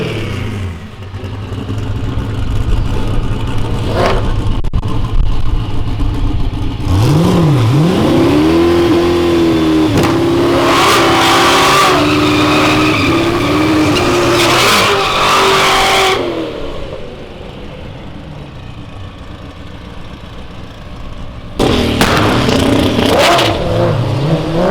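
A Chevrolet F-body car revs hard at an Anything Goes racing showdown. The engine roars loud and close, climbs through repeated sweeping revs, settles to a steady drone, then bursts into another rev near the end.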